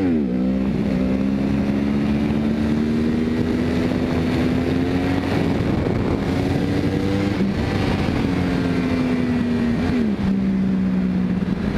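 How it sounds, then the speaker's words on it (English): A 2011 Yamaha R1 sportbike revs hard in second gear while lifting into a wheelie, its engine note climbing and holding loud and close, with a rushing, wind-buffeted drone throughout. "So let's try a second gear one more time."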